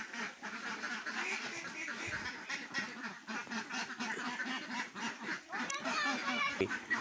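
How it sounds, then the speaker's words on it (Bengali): A flock of farm ducks quacking busily as they eat, with dense, overlapping, close-up calls that continue throughout. "তো দেখেন হাঁসগুলো সুন্দরভাবে খাবার খাচ্ছে।"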